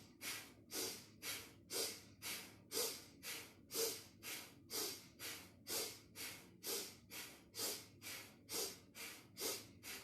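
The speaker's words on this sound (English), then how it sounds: "sniffing and snorting." Sharp, rhythmic sniffing and snorting breaths from a Kundalini yoga breathing exercise, about two forceful bursts per second, close and steady throughout with no talking.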